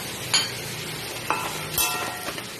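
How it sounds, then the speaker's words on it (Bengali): Potatoes fry in hot oil in a pan for a mutton curry while being stirred: a steady low sizzle broken by a few scraping stirs, with no talking. "আলু প্রায় ভাজা হয়ে এসছে।"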